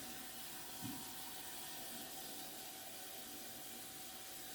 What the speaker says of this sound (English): I'm turning on both taps.